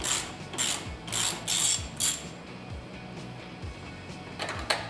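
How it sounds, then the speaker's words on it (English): A ratchet backs out an 8mm bolt on the intake of a HEMI Charger, giving several quick bursts of close, crisp clicking with short pauses and a last burst near the end. "First, we'll pull out this 8mm bolt"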